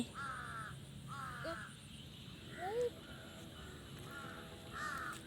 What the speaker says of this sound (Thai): อีกา มันมารอกินปลา